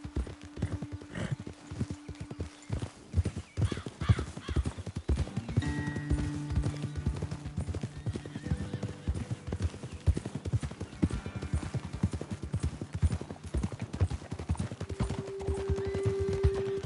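Horse hooves clip-clop in a steady walking rhythm in Red Dead Redemption 2, fairly quiet and continuous, with faint tonal game ambience and an occasional soft whinny-like sound beneath.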